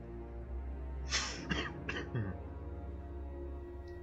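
A few harsh coughs and throat clearing in quick succession, close and moderately loud, over a quiet steady background hum.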